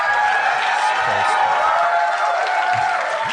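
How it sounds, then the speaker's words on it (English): A large audience applauding steadily, dense clapping with a few cheers mixed in, filling the whole stretch at a loud level. "You heard that applause."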